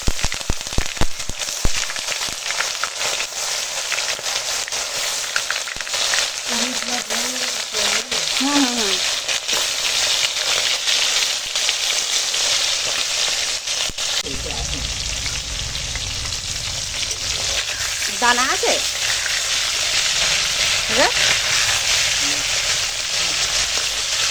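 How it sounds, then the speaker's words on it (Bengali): Bhola fish frying in hot oil, a steady, loud broadband sizzle that runs throughout with occasional stirring scrapes and brief faint background voices. "তেল হয়ে গেছে এখন গরম তো এখন চলো মাছগুলো ভেজে নিই"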